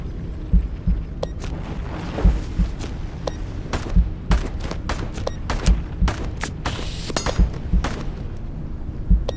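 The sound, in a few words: enemy gunfire in the video game Into the Radius 2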